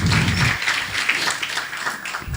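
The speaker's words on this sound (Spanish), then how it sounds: "démosle un fuerte aplauso a Dios" A church congregation breaks into a loud wash of applause for God during a Spanish-language sermon, rising right after a short burst of a voice and continuing as a dense, steady roar.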